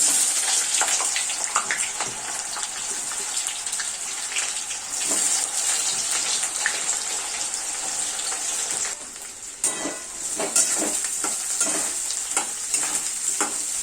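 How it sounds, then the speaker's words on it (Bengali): Sliced onions fry in oil with black pepper, making a loud, steady sizzle close by, broken by repeated scraping stirs of a spoon in the pan. "পেঁয়াজটা ভালো করে ভেজে নিতে হবে।"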